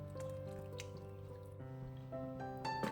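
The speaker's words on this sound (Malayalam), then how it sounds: "ഇനി കുറച്ച് വെള്ളം കൂടി ആ മിക്സഡ് ജാറിനകത്ത് ഒഴിച്ച് അതുകൂടി ചേർക്കാം" Water poured from a mixer jar into a prawn and raw mango curry, a soft close trickle with rising liquid tones as the pot fills, quiet and alone.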